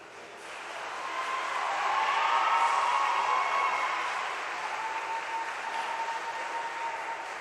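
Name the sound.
audience applause at a swim meet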